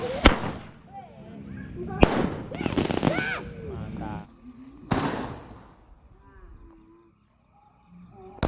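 Golden Blitz firecracker set off at night during Ramadan, a handful of sharp, loud cracks and bangs spread over several seconds with crackling bursts between them, followed by near silence and a final pop.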